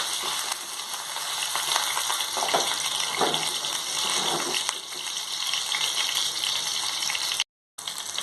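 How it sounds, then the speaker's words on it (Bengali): Onions sizzling in hot oil for a fish curry, a steady, dense crackling hiss that runs loud and unbroken throughout, with one brief dropout near the end. "তেল আমি এখন দিয়ে দেবো পেঁয়াজ এখন পেঁয়াজকে একটু করা করবো"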